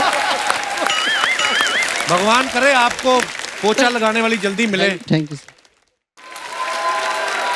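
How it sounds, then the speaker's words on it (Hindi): Studio audience on a comedy show breaking into applause after someone speaks, clapping swelling beneath her voice, then a brief silence and fresh applause. "जोरदार ताली हो जाओ मेरे लिए"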